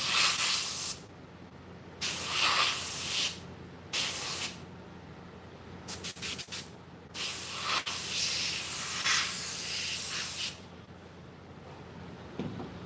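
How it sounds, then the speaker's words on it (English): An airbrush sprays paint onto apocalypse-style masks in repeated bursts, giving close, loud hissing blasts separated by short pauses, with some quick sputtering triggers in the middle. "Sometimes when you think your airbrush is clogged, you're just out of color"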